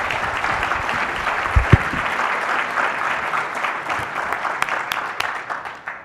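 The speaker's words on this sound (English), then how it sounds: "let's give them a big round of applause." Audience applauding a panel at a community event on opportunity zones in Atlanta, a sustained wash of clapping that gradually thins toward the end, with a few thumps early on.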